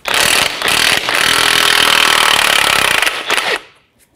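Impact or power tool spinning a 19 mm socket to remove the nut from an outer tie rod end on a 2009-2014 Nissan Maxima, a loud continuous rattling buzz for about three and a half seconds that stops abruptly.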